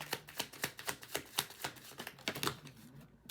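A deck of cards being shuffled by hand, a quick series of sharp riffling clicks and flutters in close succession, near and fairly quiet, fading out at the end with no speech.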